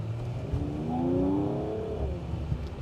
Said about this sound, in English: Even as a V6, this car sounds really good.